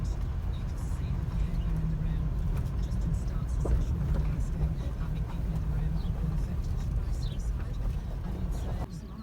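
A farm vehicle drives along toward a dairy shed, its steady low engine rumble continuous and fairly loud throughout, with faint speech-like sounds mixed in.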